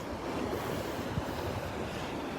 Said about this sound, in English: Some nice waves breaking out there, some really nice size waves.